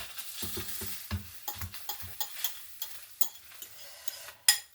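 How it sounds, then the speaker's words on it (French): Last layer of beaten egg cooking in a pan for a Japanese rolled omelette, a soft sizzle under light scraping and stirring taps, close and quiet, ending on a sharper knock. "je vais mettre la dernière couche d'œuf"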